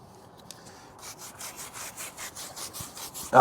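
A large brush scrubs car wheels, starting about a second in with steady back-and-forth bristle strokes, close and moderately loud, after a quiet start.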